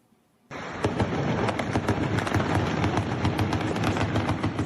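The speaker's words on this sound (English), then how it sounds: "Gunfire erupted and fighting broke out near the presidential palace in Conakry early Sunday morning" Rapid gunfire and fighting near the presidential palace in Conakry's Kaloum neighborhood during an early-morning military coup in Guinea; dense bursts of shots crackle continuously after a brief quiet start, loud and relentless.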